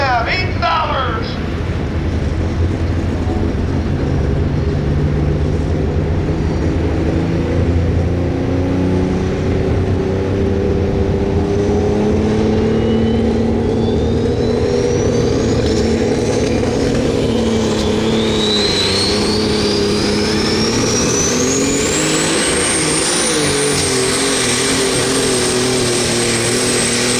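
A John Deere 4010 tractor in a super stock multi-turbocharged tractor pulling contest at Freeport, Illinois drags a sled, its engine a loud sustained roar with rising turbo whine, with an announcer talking over it.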